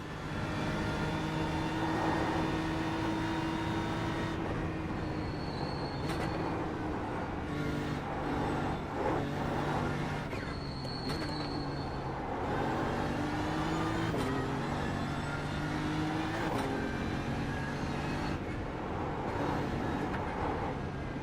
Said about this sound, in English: Another GT4 coming up. BMW.